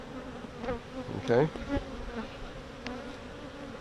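Honey bees buzz around hive combs during a beekeeping lesson, a faint steady drone close by, with a person briefly speaking over it.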